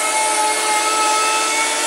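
An electric sander run off a compressor strips a greasy, oily industrial stove, giving a loud, steady abrasive whine with a hissing grind that holds unbroken and close throughout.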